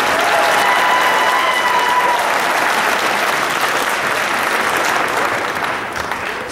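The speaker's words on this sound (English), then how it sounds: "Let's give all of these wonderful officers a round of applause for their service to our organization" A large crowd at an FFA state convention session gives a round of applause for the organization's officers: loud, dense clapping that holds steady for several seconds, then begins to thin out at the end.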